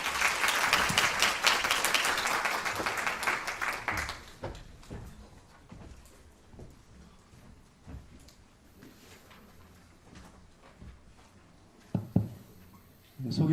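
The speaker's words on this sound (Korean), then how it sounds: "큰 박수 부탁드립니다." An audience at a policy forum applauds loudly for about four seconds, the clapping fading into a quiet room with scattered shuffles and a few faint taps.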